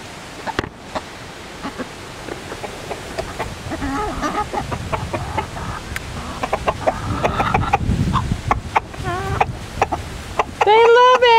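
Backyard chickens, including a young one, cluck and chatter close by while being fed watermelon, soft irregular clucks building to louder squawks near the end, with someone speaking over them.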